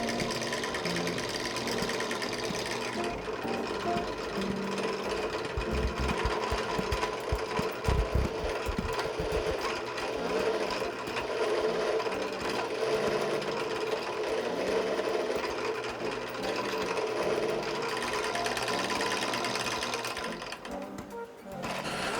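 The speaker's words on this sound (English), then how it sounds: "then I moved on to my drill press" A steady mechanical whir of a drill press running continuously while drilling metal, with a dense metallic buzz and some grinding texture as it cuts.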